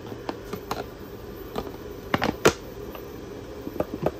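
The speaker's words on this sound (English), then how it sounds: "You can hear the relays clicking." Relays in a fire alarm system under test click sharply and irregularly, a scatter of dry ticks with a few louder snaps, close by and without talk.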